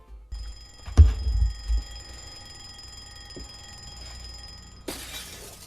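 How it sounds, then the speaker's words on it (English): Alarm clock in the Pokemon Brick Bronze video game, thrown with a sharp thump and brief rattle near the start, then a bright crash-like burst later, all over a steady electronic game hum. "we start by throwing our alarm clock"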